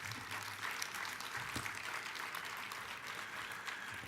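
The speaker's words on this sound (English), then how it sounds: "Let's give them a round of applause." Applause from the audience at an awards gala, a steady, fairly faint patter of many hands heard from a distance, continuing evenly throughout.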